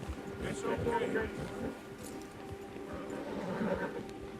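Horse hoofbeats clop along steadily amid Red Dead Redemption 2 game sounds, with occasional snorts and whinnies mixed in, moderately loud and continuous.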